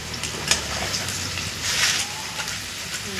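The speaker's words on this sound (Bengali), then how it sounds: "আলু প্রায় ভাজা হয়ে গেল।" Potatoes frying in hot oil in a home kitchen, cooked before being mashed with onion and green chilli, give off a steady, moderately loud crackling sizzle that runs the whole time with no voices.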